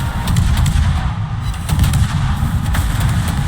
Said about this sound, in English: And now we're just getting the ricochets now.